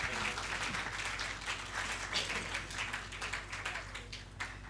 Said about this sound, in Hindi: आपकी भरपूर तालियों में आज की इस बावकार महफ़िल शेर के सदर गिरामी कद्र जनाब इफ्तिखार आरिफ से तमाम हुआ।